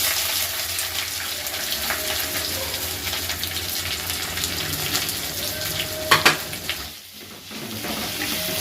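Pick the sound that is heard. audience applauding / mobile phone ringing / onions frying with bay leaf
onions frying with bay leaf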